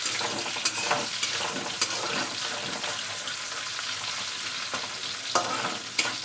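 Onions sizzle loudly in hot oil in a pan for a Bengali alu posto dish, a dense steady frying hiss broken by occasional sharp crackles and spatula scrapes, with no talking.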